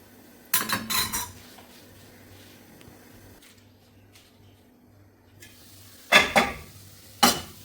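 Beetroot thoran being stirred in a metal pan: a spoon scrapes and clatters in a few loud bursts, separated by quiet stretches of low hum and a soft sizzle.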